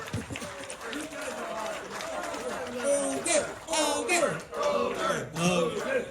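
At a Revenge of the Nerds convention panel in Chicago, an audience applauds and cheers a late-arriving guest, with loud bursts of clapping and shouts mixed with voices calling out over the room.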